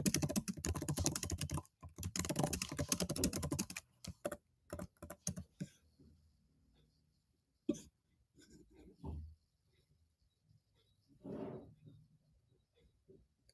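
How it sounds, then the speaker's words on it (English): Rapid clattering keystrokes on a computer keyboard, dense at first, then thinning to scattered taps with a cough and a few quiet breaths. "Whenever I'm typing a prompt,"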